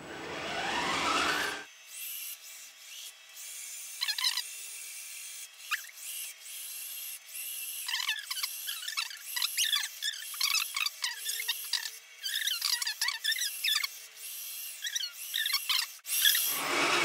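A Windoro window-cleaning robot starts up and runs, giving thin, scraping, squeaky rubbing sounds in irregular bursts against near silence, with a click at the start and end.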